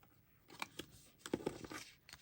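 Scissors snipping paper for a junk journal craft, a few quiet, separate cuts at close range, each a brief crisp snip with short pauses between them.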